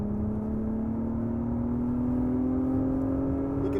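A 2021 Acura TLX Type S sedan driving hard on the Laguna Seca circuit, its engine droning steadily with the pitch slowly climbing as it pulls uphill, loud and continuous with wind and road roar underneath.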